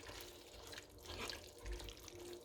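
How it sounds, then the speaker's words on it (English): Water is poured from a tap or jug into a pot of tripe curry cooking with tomato and onion, a steady close splashing stream that swells and fades briefly, with no talking. "what I'm going to do is add a little bit more water"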